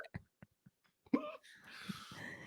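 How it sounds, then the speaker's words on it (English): A hiccup from someone talking about drinking and hangovers, sounding as a sharp isolated catch among a few faint clicks and breaths, followed by quiet murmuring voices in the background. "That hiccup was a perfect time."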